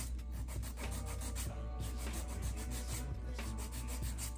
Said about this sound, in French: Là, je lime pour bien aplatir